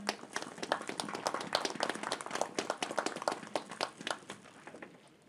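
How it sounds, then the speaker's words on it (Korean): Audience applause greets the mayor of Gyeongju at an opening ceremony for a memorial hall. Scattered hand claps form a fairly faint, steady patter that thins out toward the end. "박수로 맞아주십시오"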